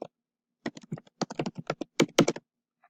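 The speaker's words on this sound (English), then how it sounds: "I'm going to type that in" A computer keyboard clatters under steady typing, a close run of crisp key clicks in quick clusters after a brief pause, with no voices.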